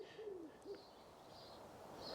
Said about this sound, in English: that wood pigeon is just so annoying